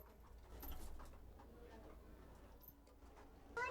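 Soft coos from racing pigeons murmur against a steady background hiss, with a few brief ticking sounds mixed in, in Kolkata.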